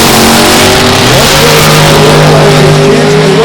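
A 1980 Ford Fairmont drag car racing down the strip at a drag racing meet, a loud, close, sustained engine roar with rising pitch as it accelerates.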